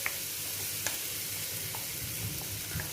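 Khoa hisses and sizzles in ghee in a pan as it is added for khava modak, a steady close frying hiss with a few faint clinks and no talking.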